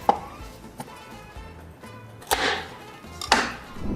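Knife chopping onion into slices on a board, a few sharp separate thwacks spaced irregularly with quiet gaps between, close by.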